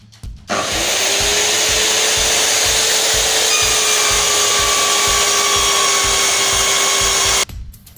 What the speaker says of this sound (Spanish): Ahora vamos a encender la máquina y hacemos un corte completamente en el centro, que será la canaleta por donde pase el disco.